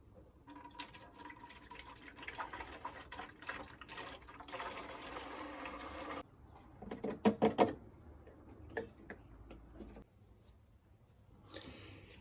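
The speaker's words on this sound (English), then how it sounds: "So as I'm refilling it with coolant, the first thing I'm going to do is put 50-50 mix, pre-mixed already, into the overflow tank over here." Pre-mixed 50-50 coolant is poured into the overflow tank of a 2000 Toyota Sienna, making a steady, hissing trickle of liquid. Splashing sounds come through, then a few sharp clinks, and a faint dribble continues at the end.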